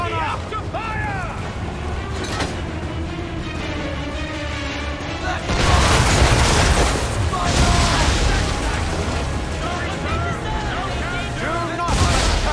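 Cannon fire aboard a sailing ship in the Assassin's Creed 3 video game: heavy, booming broadside volleys and crackling gunfire over ship noise, with loud bursts, one near the middle and one at the end, and shouting voices throughout.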